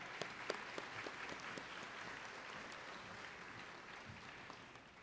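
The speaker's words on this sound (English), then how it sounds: "Let's have a round of applause for that achievement." An audience at a graduate awards ceremony claps in a steady, distant-sounding round of applause, fairly quiet and evenly sustained, with a few sharper claps near the start.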